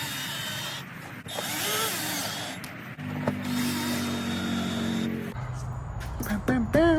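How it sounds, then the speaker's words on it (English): A power drill bores mounting holes for a waterproof fuse relay box on a Teryx 800 side-by-side, whining loudly in several long runs with pitch changes as the bit bites, close up. "get the holes drilled just so we know that it fits"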